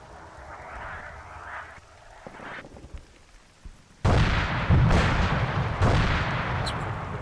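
Artillery rounds from the ArmA 3 video game fire and land in heavy booming bursts, a quieter rumble first, then loud, close, sustained blasts with repeated explosive impacts.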